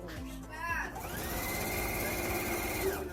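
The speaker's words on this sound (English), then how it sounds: "we're sewing a 1/4 inch all the way down" A sewing machine runs steadily, stitching a quarter-inch seam down a spiderweb quilt, its motor hum continuous and close with a brief pause near the start.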